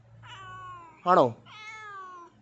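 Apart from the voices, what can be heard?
cat meowing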